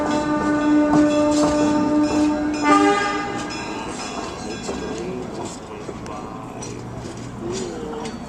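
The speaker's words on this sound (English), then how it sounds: "Bye, train!" An Easter excursion train rolls past and sounds its horn in a long blast over the first few seconds. Its rumble and wheel clatter carry on afterward, with voices nearby.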